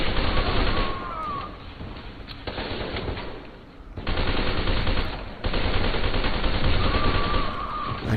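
Assault rifle in F.E.A.R. 2 firing long, loud automatic bursts in close succession, with short pauses between volleys amid the crackle of battle.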